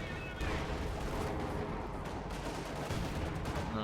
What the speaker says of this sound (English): Katyusha firing over on the infantry force from Budwise